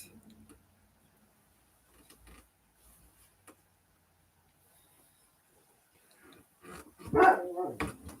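A puppy gives a short burst of barks and whimpers near the end, after a long stretch of near silence broken only by faint small noises.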